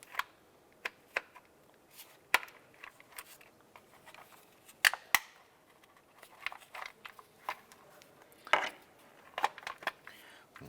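Plastic engine cover on a 2001-2005 Honda Civic being lifted off, giving sharp intermittent clicks, snaps and rattles of hard plastic, close and fairly quiet, scattered irregularly with no talking.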